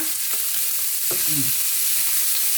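Onion being stir-fried in a pan with pork, a steady close sizzle with a few soft scrapes of the spatula, no talking.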